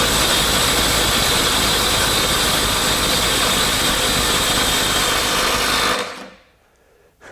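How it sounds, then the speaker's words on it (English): A Milwaukee M12 Stubby impact wrench hammers steadily and loudly for about six seconds on speed 3, then cuts off and leaves near silence with a faint click at the end. "So let's go back to the Milwaukee, the OG M12 Stubby"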